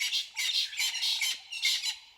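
A francolin's harsh, raucous calls in a rapid chattering series, several loud bursts of cackling squawks close by with short gaps between them.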